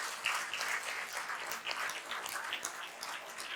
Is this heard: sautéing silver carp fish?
no